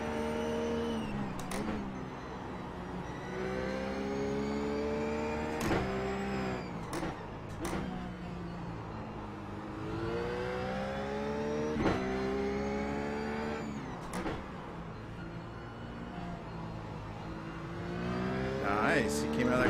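Race car engine in the iRacing sim, revving up through rising gear pulls and dropping at each shift, loud and continuous across the whole stretch, with a voice talking over it.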